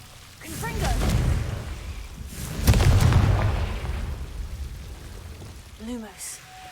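Confringo blasting spells in Hogwarts Legacy go off as two booming bursts with crackling, rumbling tails, and a voice is heard amid the blasts.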